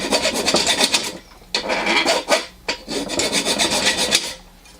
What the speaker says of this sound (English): I think I'll sand that one down.